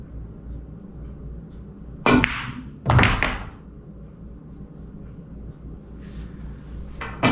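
A pool cue strikes the cue ball in a few sharp, close knocks, each followed by a brief clatter of balls, with quiet room hum between shots.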